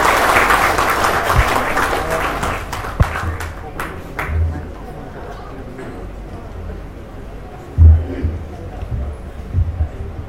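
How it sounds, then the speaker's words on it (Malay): Crowd applause at the launch event of the Pakatan women's wing in Sabah; a dense burst of clapping that fades out within about three seconds, leaving a quiet room with occasional thumps and rustle. "Berikan tepukan."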